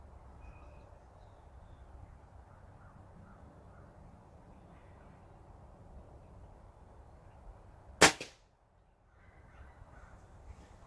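A .22 Gamo Swarm Maxxim air rifle fires a single pellet, one sharp, loud crack over steady outdoor background noise with crows cawing, followed by a brief hush.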